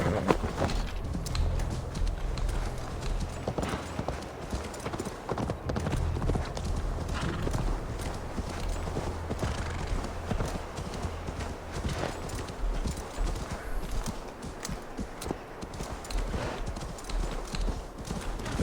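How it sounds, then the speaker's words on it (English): Horse hooves clip-clopping in the Assassin's Creed Valhalla video game, a steady, moderately loud stream of hoofbeats with a whinny, mixed with game ambience. "Tem que andar um bocado para chamar o cavalo."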